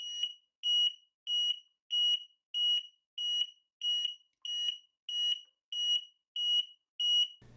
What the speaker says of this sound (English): let's compare the siren output and quality